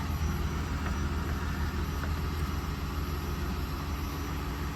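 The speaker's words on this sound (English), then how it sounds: "Car's running." A Mk3 Ford Mondeo engine idles, heard from beneath the car during a fuel filter change, as a steady, low, continuous drone with a faint high whine on top and no talking.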